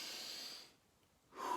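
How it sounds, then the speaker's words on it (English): A slow breath drawn in through the nose and released through the mouth during a meditation exercise, soft and close, with a quiet pause between the inhale and the exhale. "in through the nose, out through the mouth"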